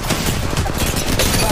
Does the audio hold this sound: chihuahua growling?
no